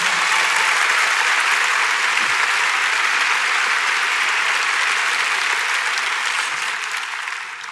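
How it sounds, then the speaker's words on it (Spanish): A church congregation applauds the Lord during a sermon, a loud dense wash of many hands clapping together, sustained throughout and easing slightly at the end, with no talk over it. "Dale fuerte ese aplauso al Señor"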